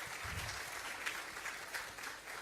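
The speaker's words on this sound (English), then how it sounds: "this round of applause will give you your healing that you need for the morning" An audience at an ambassadors' conference claps in a brief, steady round of applause, a dense patter of many hands at moderate distance with no voices over it.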